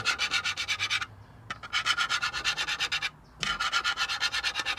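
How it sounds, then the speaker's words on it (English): A gold pan is swirled back and forth in a southwest Oregon creek, moving black sands with quick, regular scraping strokes in two runs broken by short pauses. "Just zigzagged it back and forth. Move those black sands right out of the way."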